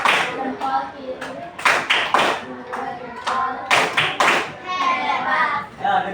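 Children in a classroom perform the tepuk jempol clapping chant, sharp rhythmic bursts of clapping in groups mixed with a teacher's and kids' chanting voices, close and lively.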